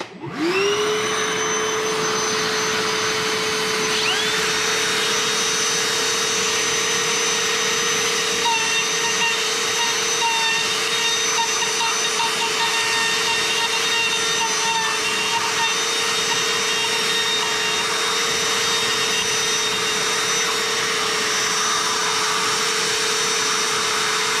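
Router running steadily while routing a new mortise over an old one with a template, a loud sustained whine that spins up at the start and holds an even pitch throughout.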